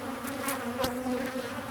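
Bees from an angry hive box buzz in a steady, droning hum, with a few sharper passes of individual insects flying close by.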